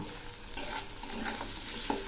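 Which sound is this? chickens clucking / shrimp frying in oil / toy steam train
shrimp frying in oil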